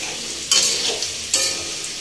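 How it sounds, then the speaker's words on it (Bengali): Potatoes fry in hot oil for dahi mutton, giving a close, loud sizzle punctuated by two distinct stirring scrapes about a second apart. "আলুটা একটু ভেজে নিচ্ছি"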